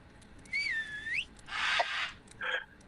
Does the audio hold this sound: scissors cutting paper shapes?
no